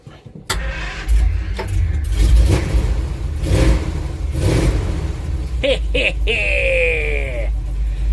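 A Simca Marmon 4x4 engine cranks and catches with the choke pulled, sputtering into a rough, revving run up close while someone talks and a squealing whine rises near the end.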